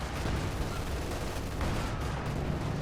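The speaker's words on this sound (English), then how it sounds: "In the center, the assault guns blasting on the south here." Assault gun fire in the real-time strategy game Company of Heroes 2: a dense, continuous wash of battle blasts and gunfire, loud and unbroken for the whole stretch, with no voices.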